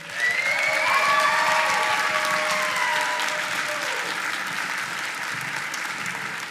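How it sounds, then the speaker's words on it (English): An audience at a spring school band concert breaks into applause, a loud, dense wash of clapping that peaks early and then slowly thins over several seconds, with a few faint whistles in it. "And can we get them one more round of applause?"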